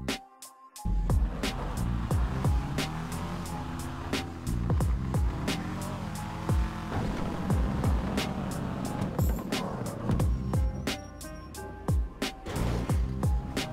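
Engine roar and tyre noise from a car in GTA 5 during a parkour run, with repeated handbrake skids and thuds over a steady, loud drone and shifting engine pitch.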